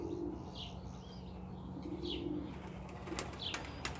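Young pigeons settling into their home loft give soft, low cooing calls in short phrases, faint against a steady background hum, with a few light flutters near the end.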